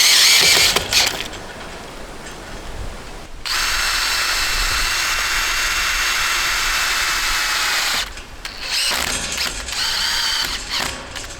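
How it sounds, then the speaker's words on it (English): A power drill drives self-tapping metal-to-metal screws into a steel fence bracket on a Euro fence dog kennel, giving loud, close whirring bursts with a long steady run and ratcheting stops in between. "I'm going to try these self-tapping metal to metal screws."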